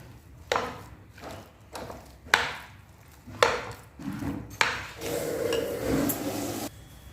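A spoon stirs tomato and onion into a simmering Punjabi kadhi in a pot, giving several separate scraping strokes close by, then a steadier rustling, bubbling wash of sound.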